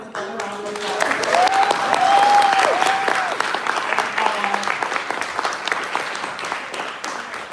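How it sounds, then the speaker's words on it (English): An audience applauds poets at an evening event celebrating poetry, the clapping full and sustained across the room while cheers and whoops rise over it early on, then settling into steady applause. "Can we give all of these poets a round of applause?"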